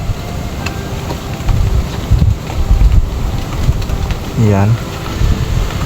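Strong wind gusts buffet the microphone outdoors in a rice paddy, a constant roar that swells in waves, with someone talking briefly.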